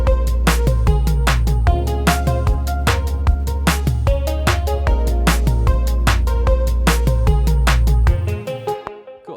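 Instrumental beat: steady rhythmic pattern of sharp percussive hits over a deep sustained bass and layered melodic synths, loud and continuous, cutting off and fading in the final second.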